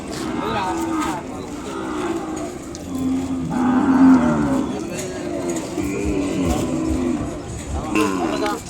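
Cattle lowing at an Ongole bull market, several deep moos rising over the crowd at intervals, one especially loud near the middle, with people talking and bargaining throughout.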